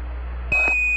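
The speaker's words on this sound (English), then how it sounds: "Give us a reading on the 1202 program alarm." The Apollo 11 lunar module's 1202 program alarm sounds as a steady electronic tone that starts abruptly partway through and holds, over a constant low hum of background noise.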